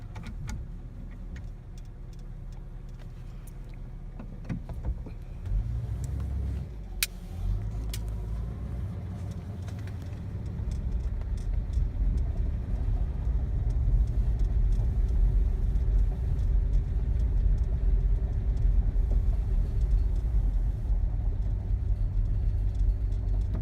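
A 1951 Hudson Commodore 8 drives along, its engine a low steady rumble that builds gradually as the automatic transmission moves through its three gears, with faint ticks and clicks from the cabin and no voices.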